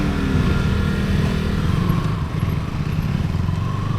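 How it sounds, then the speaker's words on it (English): A KTM Duke 160 motorcycle engine runs close by on a group road ride, giving a steady, fairly loud low rumble with slight revving changes throughout. "this is the new KTM 160"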